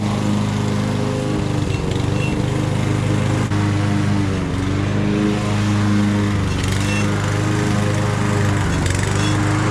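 An Ariens Razor walk-behind lawn mower engine runs loud and close, its steady drone sagging and then surging back up as the revs drop and spike.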